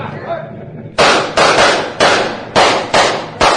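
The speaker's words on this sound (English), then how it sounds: "You other men, fire at that wagon." Gunshots ring out at a fleeing wagon in a 1949 Sherlock Holmes drama: a rapid volley of about seven loud, sharp cracks, each with a short decaying tail, following a quieter stretch of background noise.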